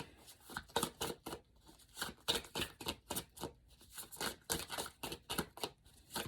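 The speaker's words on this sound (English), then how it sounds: "Just a few more shuffle throughs." A deck of tarot cards is riffled and shuffled by hand, giving a run of sharp, close, papery flicks and snaps in quick irregular bursts that continue for several seconds without speech.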